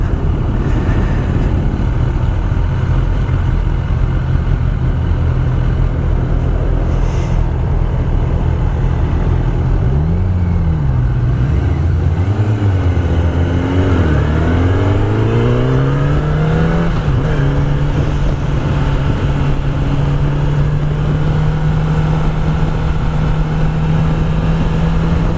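Kawasaki ZX10R 1000cc sport bike engine heard while riding, a loud steady drone under wind noise that dips and climbs through several quick gear changes midway before settling into an even cruise.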